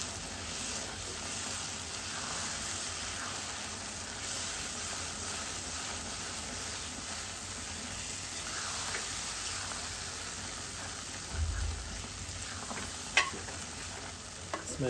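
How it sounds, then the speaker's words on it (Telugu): Gongura chutney is stirred in a frying pan, a steady close sizzle with scraping stir strokes and a few soft knocks near the end, no voices. "ఇలా కలుపుతూనే ఉండాలి."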